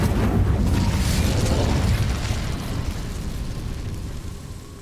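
Incendio fire spell cast in Hogwarts Legacy: a loud whooshing burst of flame that roars for a couple of seconds, then tapers into a fading crackling rumble.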